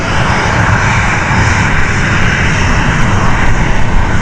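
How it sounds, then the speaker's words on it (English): Steady, loud roar of a Bombardier Global 5000 business jet taxiing at Stansted Airport, a continuous broadband engine rush close by with no pauses and no voices. "We've got a Bombardier Global 5000 on the move."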